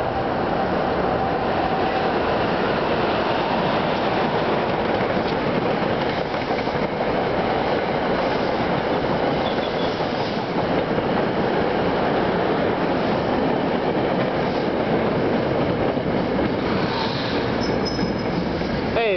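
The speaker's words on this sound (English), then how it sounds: "Train 66, 41, arriving Summit to Dover." A passenger train hauled by an ALP 4426 locomotive with Comet IV cars rolls past at a station stop on the line between Summit and Dover. A loud, continuous rumble of wheels on rails holds for the whole stretch, with faint squeals and clatter toward the end.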